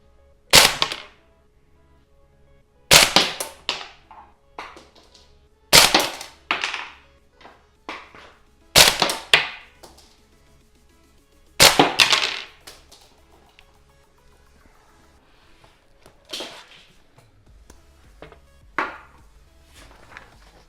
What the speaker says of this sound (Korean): 자, 두 번째 사격을 해보겠습니다.